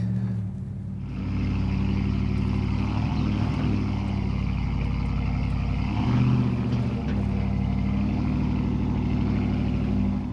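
A Dodge Ram HEMI V8 truck with Flowmaster dual exhaust growls deep and steady at idle, low and throaty with slight swells in intensity throughout.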